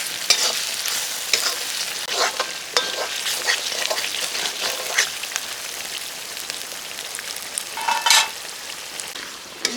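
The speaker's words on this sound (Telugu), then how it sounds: "మంచిగా నూనెలో గోయింది." Tomatoes and spices frying in oil in a pan for a Telangana-style chicken curry, a dense continuous sizzle like rain with intermittent stirring scrapes and spatters, close up and without speech.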